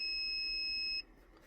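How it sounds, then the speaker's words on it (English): A Pandora car alarm system gives a single sustained electronic beep to confirm a digit entry during programming, a clear steady tone lasting about a second that cuts off sharply into quiet room noise. "we're going to press the button once, which could get a beep to confirm the first digit"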